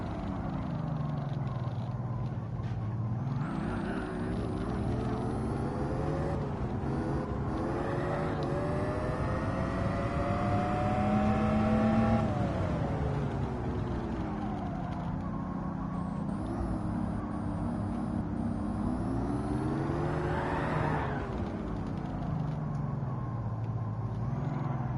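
Car engine in Gran Turismo 7 driven at speed, a continuous loud motor drone rising and falling in pitch with gear changes and acceleration, heard alone throughout.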